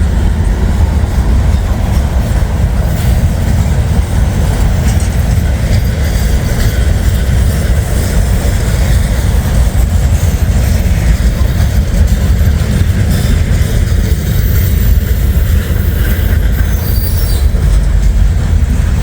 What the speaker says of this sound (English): He's even going slower than the grain train before him